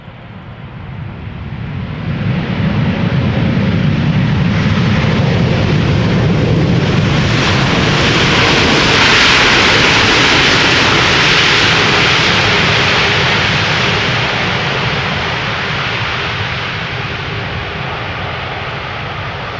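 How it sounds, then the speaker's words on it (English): A KLM Boeing 787-10 Dreamliner lands at Schiphol, its engine roar swelling loud and broad, peaking mid-pass, then easing slowly as the jet rolls away. "This is KLM flight 741 arriving from Cartagena,"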